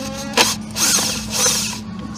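A power drill whirs in short bursts while backing screws out of the plastic covers on the steering column of a Ford Focus, Mercury Mariner or Escape, close by with brief ratcheting clicks between runs.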